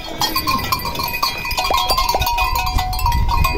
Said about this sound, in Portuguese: É um bode, viu?